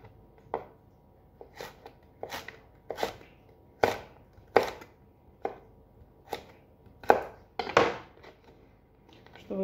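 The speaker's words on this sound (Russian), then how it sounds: "Морковь тоже, как и кабачки, нарезаю на полоски." A knife chops a carrot into strips on a cutting board in a steady series of sharp, close taps, about a dozen strikes with short pauses between them.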